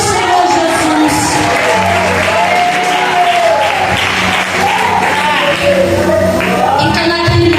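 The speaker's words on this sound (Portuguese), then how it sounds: "Quem pode aplaudir ao Senhor Jesus?" A church congregation at a women's worship service applauds and cheers loudly and steadily, with voices calling out and sustained tones running through the dense clapping.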